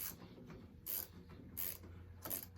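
A ratchet wrench loosens cylinder head bolts on a snowblower engine, giving several quiet bursts of rapid clicking at a steady pace, close by with no talk.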